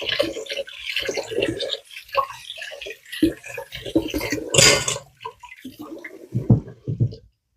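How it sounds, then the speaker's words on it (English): Tap water runs in bursts while baking utensils are rinsed off in a kitchen, with splashing, clinking of metal and dishes, and short gaps between streams. "I'm going to rinse these off"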